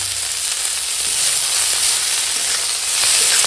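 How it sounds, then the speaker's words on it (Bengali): A paste of ground ginger, garlic, cumin, dried red and green chilli fries with salt in a pan, giving a loud, even, close hiss of sizzling throughout, with no voices. "বেটে রাখা আদা রসুন জিরে শুকনো লঙ্কা কাঁচা লঙ্কা সব একসঙ্গে বেটেছি দিয়ে এখন কষাবো"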